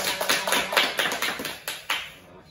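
Audience applause at a poetry reading, a room of scattered hand claps in quick uneven bursts that swell and fade over a couple of seconds, with no talking.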